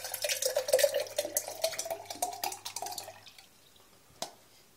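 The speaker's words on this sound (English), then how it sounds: "just put all the pulp there, and then just pour it slowly" Blood orange juice pours slowly through a bed of pulp, trickling and dripping close up for about three seconds before fading to quiet, with one last drip near the end.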